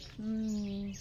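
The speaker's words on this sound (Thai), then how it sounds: "เนี่ยเสียงนกร้อง จุ๊บจุ๊บจิ๊บจิ๊บจุ๊บจิ๊บจิ๊บเนาะ" A single bird calls at a mountain-village home on a cold morning, one sustained clear tonal note lasting under a second, close and fairly loud above a soft background hiss.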